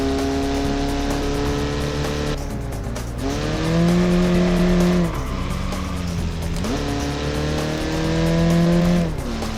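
A Soviet touge racing car, built with a weak engine and poor gearing, in the BeamNG driving game, revs hard and strains through gear changes, its engine tone climbing, dropping and climbing again, loud and close with faint tire noise.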